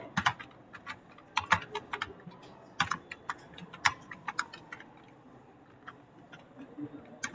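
Light computer keyboard typing, irregular quick clusters of soft key clicks with brief pauses, close and fairly quiet in a calm room.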